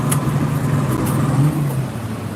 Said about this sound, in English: That is a drag race car right there.